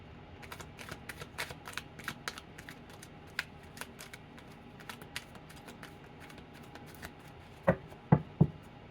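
A tarot deck riffled and tapped in quick, irregular clicks close by, with a few sharper snaps near the end; no talking.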